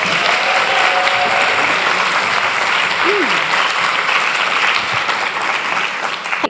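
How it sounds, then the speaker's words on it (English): An audience at Methodist Central Hall Westminster applauds for Sarah Ainsworth at an International Women's Day event, a loud, dense, steady clapping that fills the hall before tapering off at the end. "a massive round of applause for Sarah"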